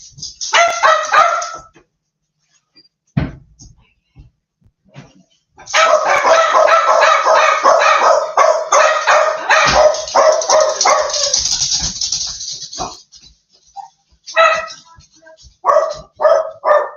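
Several dogs bark loudly and close in bursts: a short volley, a long continuous stretch of overlapping barking, then a few more rapid barks, with brief gaps of quiet between.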